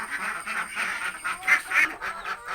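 Ducks quack in a coop shared with chickens, a run of repeated nasal calls in quick bursts, fairly close and moderately loud, with no voices.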